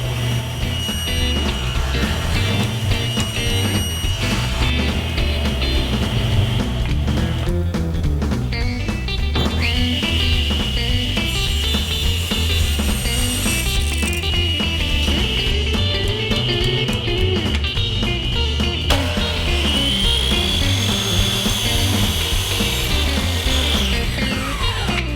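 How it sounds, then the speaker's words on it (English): A power saw cuts test passes into wood picture frame molding, a loud continuous whining drone over about twenty-five seconds with shifting pitch as the blade bites into the wood. "I'll make a few test cuts to find the height."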